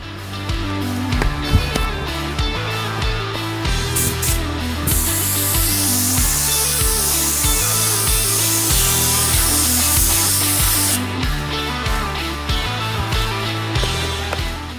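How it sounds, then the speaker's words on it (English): A spray gun hisses continuously as it applies texture coating to a car panel for matching rock and chip guard finish, with clicks and tool noise around it and a brighter, sustained burst in the middle. "we can go ahead and spray this to the final section of our panel"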